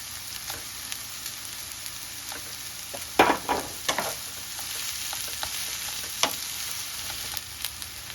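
Chopped vegetables and salt-water-boiled pasta fry and get stirred in a pan, a continuous sizzle broken by scraping strokes and sharp spatula knocks, loudest around the middle, with no talking.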